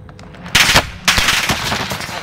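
Bursts of automatic gunfire in a Warzone battle royale match, two loud rapid volleys close by, the second longer and trailing off into continued shots.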